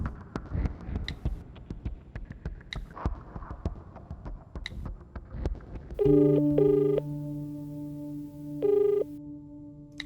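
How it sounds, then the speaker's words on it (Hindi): A phone ringing during a call in a Hindi-dubbed South Indian romantic action film, with steady electronic ring tones and a repeating beep pattern over a low hum after several seconds of rustling background noise. "मणि को कॉल करता हूं।"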